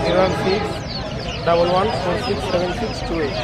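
Chickens cluck and squawk at a live poultry market, the close, busy fowl calls overlapping steadily beneath a vendor and buyer talking over the noise.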